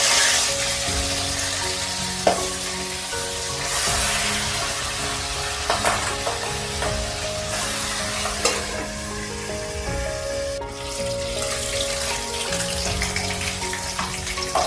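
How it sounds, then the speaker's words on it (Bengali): Rohu fish heads frying in hot mustard oil in a wok, a steady loud sizzle with occasional stirring clinks and pops running throughout, no voices. "তেল গরম হয়ে গেছে, এবার আমি মাছের মাথাগুলো দিয়ে দিচ্ছি।"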